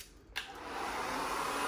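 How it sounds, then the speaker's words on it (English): A hair dryer blows during a volume blowout styling: a click, then a loud, steady rush of air that builds and holds close to the listener. "hold the dryer and follow the brush with the airstream flowing down"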